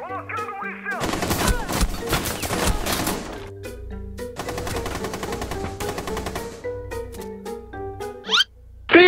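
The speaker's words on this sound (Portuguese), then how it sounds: "Disparos foram ouvidos." Rapid automatic gunfire in the video game Rainbow Six Siege, several loud bursts of shots with short gaps between them and a brief voice near the end.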